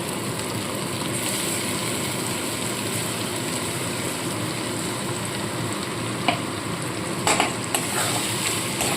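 Pointed gourd (potol) paste frying in a pan as it is stirred, a continuous loud sizzle with scraping of the spoon and a few sharper clinks near the end.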